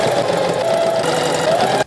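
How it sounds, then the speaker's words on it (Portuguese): Sewing machine running steadily as it stitches along a whole fabric piece for a pet carnival collar, a loud close continuous whirring hum that cuts off abruptly at the end. "Aqui a gente vai passar uma costura na peça inteira"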